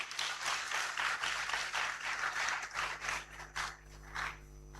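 An audience applauds Professor Joseph B. Afful at his inaugural lecture at the University of Cape Coast: a steady wash of clapping from a crowd at moderate distance that thins out and fades toward the end.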